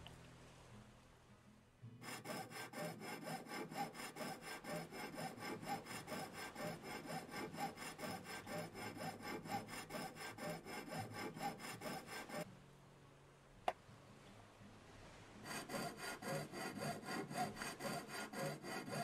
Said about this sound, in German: So, her mit der Säge.